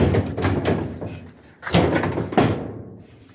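An electric dryer door is lifted off its hooks, giving three sharp knocks and rattles of metal panel with short scraping between them, close and fairly loud with no talk.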